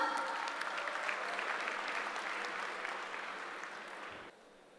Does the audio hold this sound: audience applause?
yes